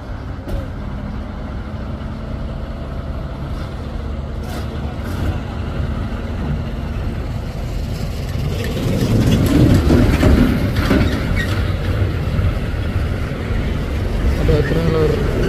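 A Nissan Diesel FS10 V10 trailer truck grinds uphill, its low engine rumble steady and close, swelling louder in the back half as the load works harder.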